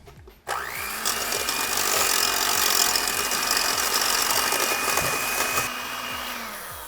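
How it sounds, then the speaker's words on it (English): Electric mixer whisking heavy cream with powdered sugar and vanilla for whipped cream, a steady loud motor whir running for several seconds, starting abruptly and easing slightly near the end, with no talking. "We're gonna whisk this together."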